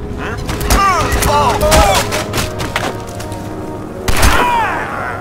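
Several sharp gunshots crack in a quick burst in Crysis 2 Remastered, with a pause and then another shot near the end, over steady game background noise.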